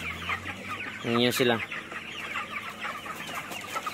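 Chickens being raised for harvest in a farm block cluck, with one loud burst of squawking near the middle over a steady background of distant fowl chatter, and brief speech.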